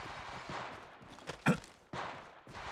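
Enemy gunfire in the Apex Legends Mobile video game: a few short bursts of shots, one sharp loud crack in the middle, among lower game noise.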